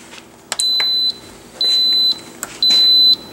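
Three clear electronic beeps from an Instant Pot Ultra pressure cooker starting, evenly spaced, each held about half a second, with no one talking.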